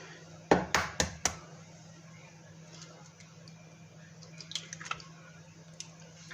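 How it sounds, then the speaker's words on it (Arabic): Eggs cracked for chocolate cupcakes: three or four sharp, close cracks and taps in quick succession, then a quiet kitchen with a few faint clicks and ticks. "اول حاجه هنكسر البيضه"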